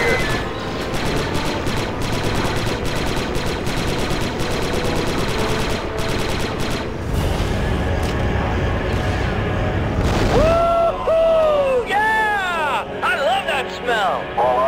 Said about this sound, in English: 3-8, my scanners show an explosion.